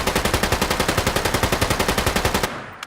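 A customized automatic service rifle in Fallout 4 fires 5.56 rounds in one loud, rapid, evenly spaced burst of about two and a half seconds, then stops abruptly.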